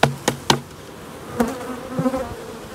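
Honeybees from an opened, aggressive hive hum in a dense buzz close by, broken by a few sharp taps against a hard surface at the start.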